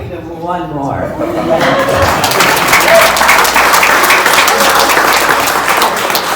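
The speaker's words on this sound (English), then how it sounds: "Well, that wasn't the final round of applause." A voice speaks at the start, then an audience at an indoor awards event breaks into loud, dense applause that swells and holds steady to the end.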